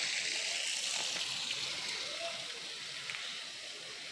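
Steady rushing water of the Arroyo Catonas, a stream feeding the Reconquista river in the Las Catonas neighbourhood of Moreno, a continuous broadband wash heard close and fairly loud throughout.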